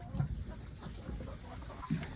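Chickens cluck briefly in a farm coop, two short low calls close by over faint background noise.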